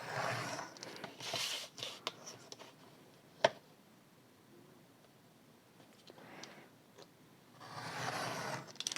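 Paper for a scrapbook album page is cut with scissors in short, close bursts of crisp snipping and scraping, separated by quiet pauses and one sharp click.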